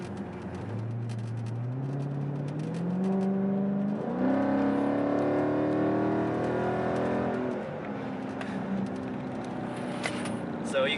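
A Dodge Charger 392 Scat Pack accelerates from inside the cabin, its V8 engine note climbing steadily through rising gear pulls, with a shift around the middle and the revs easing off near the end.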